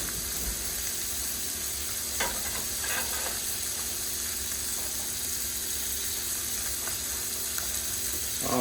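Blackened fish frying in a pan for tacos, a steady close sizzle running throughout with a few faint clicks of utensils, no voices.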